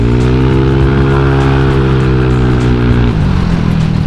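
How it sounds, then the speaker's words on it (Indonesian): A bore-up automatic scooter engine is revved hard and held at high, steady revs for about three seconds, then drops sharply to a lower, rougher idle, loud and close with no talking. "Yang tipe agresif itu demennya main gas kayak begini."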